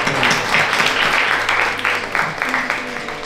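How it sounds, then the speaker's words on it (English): Audience applause following a Carnatic music debut performance, a steady wash of many hands clapping throughout, with some murmuring voices mixed underneath. "A big round of applause again."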